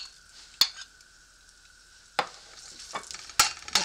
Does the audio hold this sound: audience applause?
no